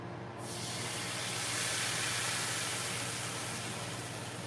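Birria burrito sizzling in a hot pan, a sudden burst of bright hissing that swells and then holds as a steady loud frying crackle, with no talking.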